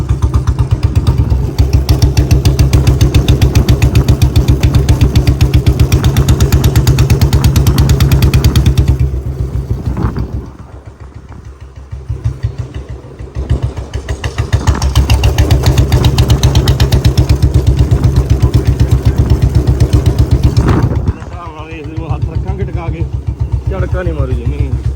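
A BS4 Royal Enfield Bullet with a reverse magnet runs with a heavy, steady thumping beat, loud and close. It eases briefly mid-way, then picks back up to a strong, even rhythm.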